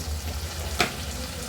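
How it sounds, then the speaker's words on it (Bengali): Boiled cauliflower and potato sautéing in spices in a pan, a steady close sizzle with one brief scrape of a utensil partway through. "ফুলকপিটাকে আমি 6-7 মিনিটের মতো ভালো করে কষিয়ে নেব।"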